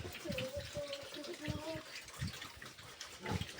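Water poured into a pig drinking trough on a small farm, splashing and trickling close by while pigs grunt and a person talks.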